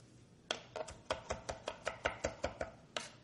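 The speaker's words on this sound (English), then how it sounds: "And then I can use this technique for chopping things fine." A knife finely chops parsley quickly and rhythmically on a cutting board, about a dozen crisp knocks in a steady beat, close up with no talking.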